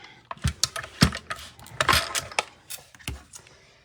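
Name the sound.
mini Stampin' Cut and Emboss machine running, shaking a card table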